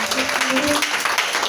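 Church congregation applauding during a service, a dense wash of clapping from many hands with a voice and a faint sustained tone under it.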